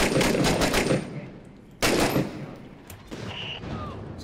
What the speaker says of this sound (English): I just shot this dude in the face, and he lived